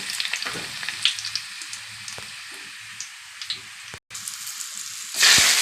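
Garlic and dried red chillies sizzle steadily in hot oil in a pan, a close, even crackle with scattered pops and a louder burst of spitting at the end.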